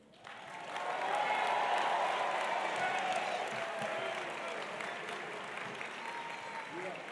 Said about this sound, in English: a round of applause would be very much appreciated